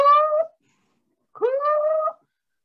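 A male cat gives two loud, close meows separated by a short silence. The second meow is longer and rises in pitch, and no one speaks.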